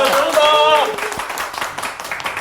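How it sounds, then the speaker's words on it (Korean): A seated audience claps at the close of a political talk show, a spread of hands rising under a speaking voice, then continuing as a steady, moderately loud patter. "여러분들의 힘찬 박수와 함께 모두 마치도록 하겠습니다"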